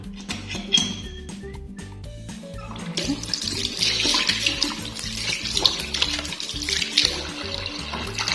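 Water runs into a bathroom sink and drains down after a clogged drain is treated with dish soap, a steady close splashing flow that grows louder and fuller partway through.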